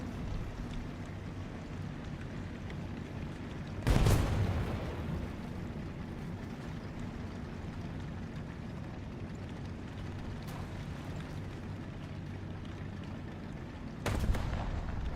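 Tank cannon shots in War Thunder boom out twice, about ten seconds apart, each a sharp loud blast with a short decaying tail over a steady engine rumble, no talking.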